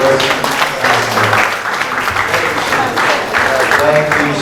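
A talk-show audience applauds steadily and fairly loudly, a dense wash of clapping that continues throughout, with voices audible underneath.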